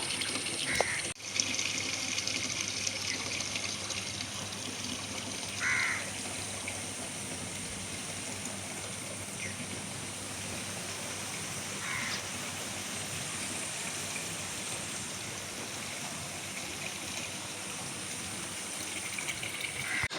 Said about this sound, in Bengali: কল চালিয়ে দিয়েছি, কলে জল পড়ছে।